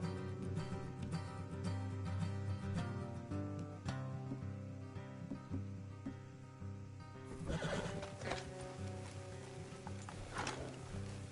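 Horses in Red Dead Redemption 2 snort and whinny over a steady musical backdrop, with soft hoof clops and rustling movement growing busier toward the end, fairly faint.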